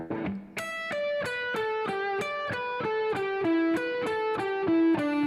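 An electric guitar with reverb plays a rapid run of single picked notes, each note ringing bright and sustained into the next, close and clear with no voices.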